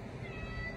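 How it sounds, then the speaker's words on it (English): A cat meowing in the background of a room, faint and short. "I apologize for the excessive cat meowing in the background."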